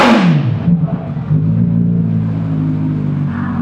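An Aprilia RSV4 1100 Factory motorcycle engine falls from a sharp rev back to a steady, rumbling idle, close and loud, with no talking.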